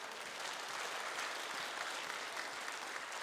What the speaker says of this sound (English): A round of applause for our Tai Chi performers.